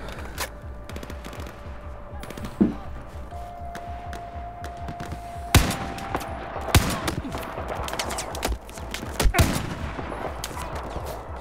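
Enemy gunfire in the Battlefield 4 campaign on Kunlun Mountain arrives as scattered sharp shots and bursts, some close and loud, others distant, over a rumbling battle background with occasional heavy thuds.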